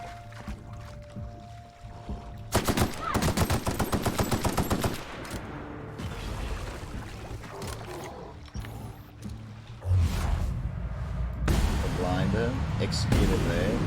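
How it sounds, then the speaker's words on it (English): Rapid, heavy firing bursts from a grenade launcher in the game The Outer Worlds pound on for several seconds, followed by booming impacts, with a player talking over the action. "Grenade launcher is sick."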